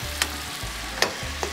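Tomatoes and basil simmering in a pan for fish with chili, a low steady sizzle with three quick stirring clicks at even intervals.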